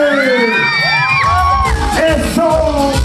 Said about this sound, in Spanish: Y el grito para la quinceañera dice: